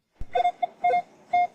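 A metal detector gives a few short, warbling electronic beeps in an uneven rhythm after a faint click, close and clear.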